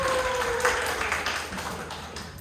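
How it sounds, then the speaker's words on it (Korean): A church youth-group congregation applauds to welcome a teacher back from military service, a dense wash of many hands clapping that gradually fades, with faint voices mixed in. "우리 같이 한번 박수로 환영할까요?"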